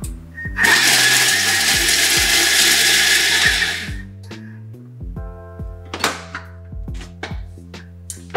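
A kitchen blender whirs loudly for several seconds, chopping pieces of bread into breadcrumbs, then stops and leaves a few clattering, knocking sounds of the jar and blade settling.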